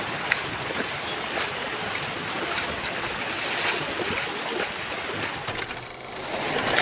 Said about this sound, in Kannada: ನೋಡಿ, ಇಲ್ಲಿ ಅಲೆಗಳು ಎಷ್ಟು ಚೆನ್ನಾಗಿ ಬರ್ತಾ ಇದೆ.